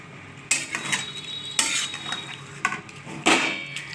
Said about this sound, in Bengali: এই জলটা আমি দেবো হালকা করে। দিয়ে দিলাম জলটা